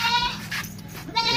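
A plump, healthy goat bleats in a nasal, wavering call at the start and again near the end, close by with a quiet pause between.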